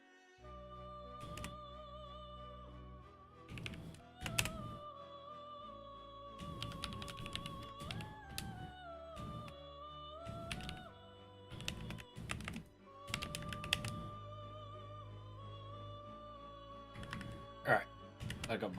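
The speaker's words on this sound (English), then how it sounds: "I'm going to be typing my questions and eventually putting them in notes." Bursts of typing on a computer keyboard come in short irregular clusters beneath a sustained synthesizer-like music bed with shifting tones, the keystrokes near and crisp.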